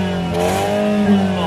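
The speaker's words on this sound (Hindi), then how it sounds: "इसके एग्जॉस्ट का भाई आवाज सुनाता हूँ, क्या तगड़ी आवाज है इसकी भाई।" BMW 220i M Sport twin exhaust, with outlets on the left and right sides, idling with a steady low burble and a brief rise in revs near the end, heard up close and continuous.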